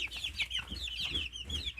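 A flock of chickens, hens and young chicks, clucks continuously up close in short rhythmic calls, with no voices.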